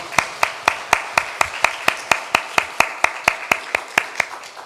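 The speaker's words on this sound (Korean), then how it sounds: "하나님께 영광 박수 올려드리겠습니다." A church congregation at a Korean Sunday worship service claps in steady unison, with sharp, evenly spaced claps at a brisk regular beat throughout and no speech over them.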